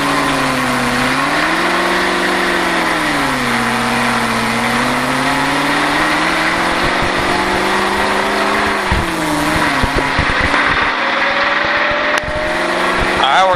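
A stock car engine at a Richard Petty driving experience holds a steady loud drone at about 2,500 RPM, its pitch swaying as the clutch is slowly let out, then dropping and roughening near the end, close and continuous.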